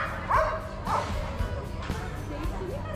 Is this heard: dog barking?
yes